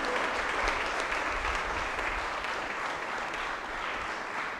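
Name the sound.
audience applause for confirmation children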